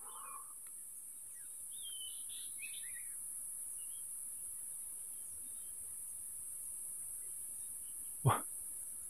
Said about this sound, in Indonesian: Banyak sekali burung berkicau.